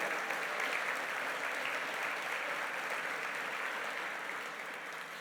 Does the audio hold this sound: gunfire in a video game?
no